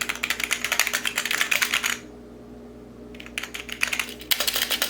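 Rapid typing on the non-mechanical keyboard of a Skytech gaming PC, close and crisp, running in a steady burst, pausing for about a second, then resuming in shorter clusters.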